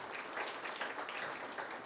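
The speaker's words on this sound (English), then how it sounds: "round of applause for Mr. Richard Lyall" A seated audience at an infrastructure labour-shortage panel event gives a steady round of applause, dense overlapping claps at moderate distance, continuous and fairly even throughout.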